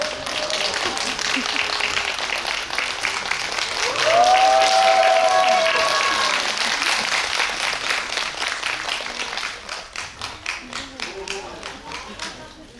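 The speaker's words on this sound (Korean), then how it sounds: "박수 부탁드립니다" Audience applause in a CGV Yongsan cinema GV hall welcoming surprise guest actor Jang Dong-gun, a dense sustained clapping wash that swells midway with cheers and voices, then thins into scattered claps near the end.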